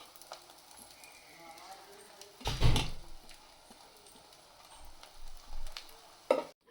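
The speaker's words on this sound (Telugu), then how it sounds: "రైస్ వేసుకున్న తర్వాత బాగా తిప్పుకోవాలి." Cooked rice is stirred into garam masala and coriander powder in a pan for mixed non-veg fried rice, with a faint sizzle broken by a couple of heavy, close scraping bursts of the spatula.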